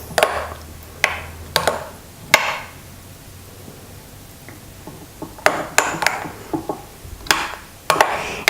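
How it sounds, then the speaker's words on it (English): Shrimp cocktail ingredients being stirred together for a Mexican-style recipe, heard as sharp utensil clinks and taps against a bowl, in scattered bursts with a quiet pause in the middle. "And you mix everything."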